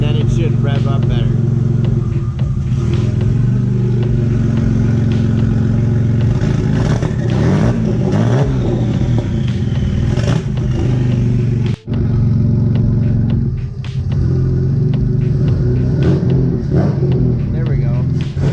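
A tuned front-mounted engine revs hard and steadily, its loud, rough drone rising and falling with throttle blips and rattling clatter, close up and continuous throughout, with a voice talking over it.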